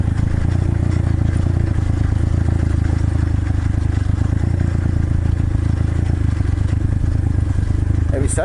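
A 125cc Chinese pit bike engine running steadily on a trail ride, a loud continuous buzzing drone with rattling clatter, close to the rider and fairly constant in pitch throughout.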